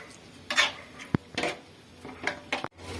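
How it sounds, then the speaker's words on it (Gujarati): A spoon stirs a Manchurian masala mixture with water in a pan, scraping and clinking against the metal in a few uneven strokes, with one sharp tap partway through, close and alone. "અને હલાવી લઈશું."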